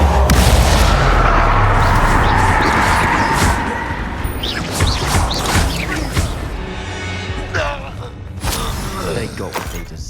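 Confringo explosion spell in Hogwarts Legacy, a loud rumbling blast with crashing debris at the start, fading into scattered cracks, creaks and shattering, with no voices.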